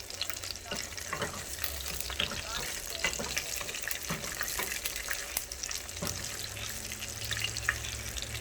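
Ground beef and potato tacos dorados frying in oil in a pan over medium heat, a close, steady crackling sizzle with scattered pops and a faint voice underneath.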